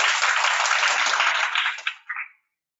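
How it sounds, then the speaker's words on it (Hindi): An audience at a batch inauguration event at a community tech college claps together, a dense, steady burst of applause that holds for about two seconds and then quickly dies away to silence. "हम एक बार ताली बजा के धन्यवाद देना चाहेंगे"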